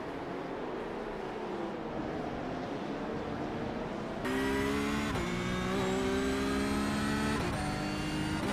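Porsche Cup race car engine in the iRacing sim at Sebring International Raceway, a steady droning roar that jumps abruptly into a louder, higher-pitched engine note at full throttle, with a brief dip at a gear change.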